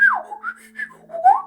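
Human whistling, alternating inward and outward whistles, as clear sliding tones that rise and fall in several short phrases, close and alone.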